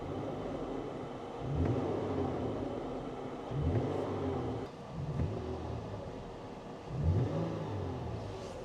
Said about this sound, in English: I'm gonna go ahead and hit the gas.